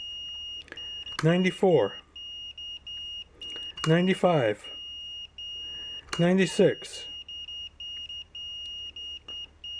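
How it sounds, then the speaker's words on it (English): A Fluke multimeter on continuity test emits a steady high beep throughout while a man counts numbers aloud in three short bursts over it, testing automotive fuses. "We're still beeping at 99 ohms on this very expensive Fluke."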